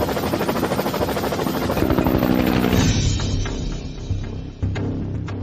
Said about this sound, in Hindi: हेलीकॉप्टर को वापस घुमा लो।